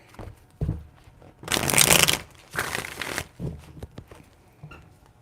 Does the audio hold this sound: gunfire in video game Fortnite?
no